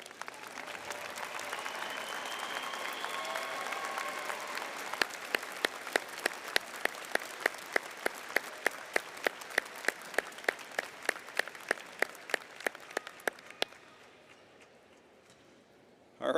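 Graduation ceremony applause from a large crowd, a dense wash of clapping that slowly thins into scattered rhythmic claps before fading out.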